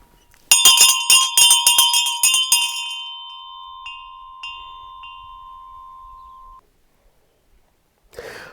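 Century-old brass hand bell with a wooden handle and a single clapper, rung close up in a quick run of bright metallic strikes, then a few isolated dings and a long shimmering decay fading to silence.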